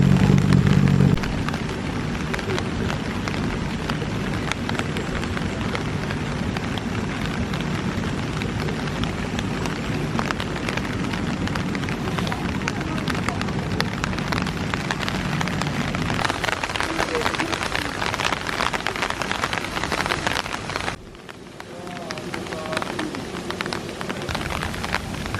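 Steady rain pours at the Beppu hot springs in Japan, a dense broadband hiss that runs throughout and drops slightly near the end, with people talking quietly underneath.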